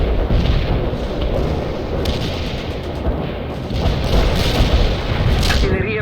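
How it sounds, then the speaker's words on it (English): A heavy artillery barrage rumbles in the strategy game World in Conflict, with continuous loud booming and overlapping blasts throughout, while game voices speak over the bombardment. "Lay down the heavy barrage"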